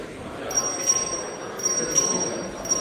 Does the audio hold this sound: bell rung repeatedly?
yes